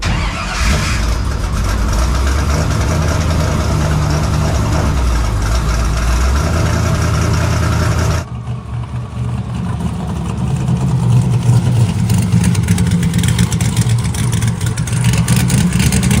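A No Prep 4x4 NASCAR truck's engine roars loudly and continuously at close range, its revving holding high before dropping abruptly midway and rebuilding into a heavy, rumbling idle-to-rev drone.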